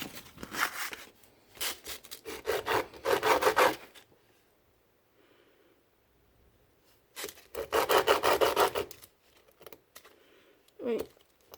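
Sanding the receiver of a Goatguns SVD miniature model gun, in two bursts of rapid, close scratchy rubbing strokes separated by a quiet pause, with a brief scrape at the end.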